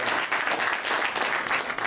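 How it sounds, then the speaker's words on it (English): Steady, dense applause fills a gala hall as an audience honours a man, continuous clapping heard at close range with no talk over it. "Can we give this great man a round of applause?"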